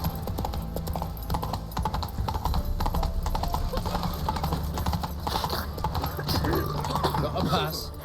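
Rapid hoofbeats of the horse Roach galloping in a race in The Witcher 3: Wild Hunt, steady and close, with someone talking over them.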